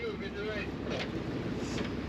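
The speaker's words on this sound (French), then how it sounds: "Le vent souffle un peu plus." Wind rushes steadily past a sailboat carrying a mainsail and full genoa, making a constant broadband roar with faint water wash underneath and no clear voices.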